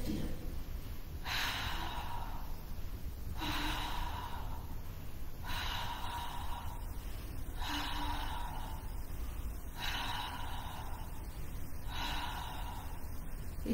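Slow, rhythmic breathing during a Pilates exercise, with six evenly spaced breaths, each a soft, airy rush heard close and fairly quiet, with no talking.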